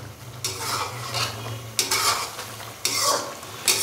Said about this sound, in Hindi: तो घी डालने के बाद अभी हम चिकन कढ़ाई को घी के साथ बहुत ही अच्छे से भून लेंगे